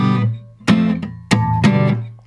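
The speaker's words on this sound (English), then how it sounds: "As long as they're blocking the strings, you'll get this scratch sound." On an acoustic guitar with the fingers resting across the strings, sharp percussive scratch strums cut in three times between ringing strummed notes, close and loud.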